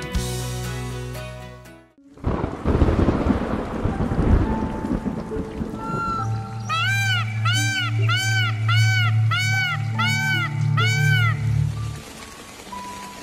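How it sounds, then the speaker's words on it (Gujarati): Rain falls steadily with low rumbles of thunder during the first monsoon rain in Gujarat, under a loud layer of music with sustained tones and chiming melodic notes, and no talking. "ગુજરાતમાં આખરે વરસાદનું આગમન થયું ત્યારે આ વરસાદની મીઠી મહેકને માણીએ"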